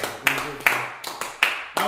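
Studio audience applause for Nick, heard as several short sharp bursts of clapping spread across a brief stretch, close and moderately loud, with voices mixed in.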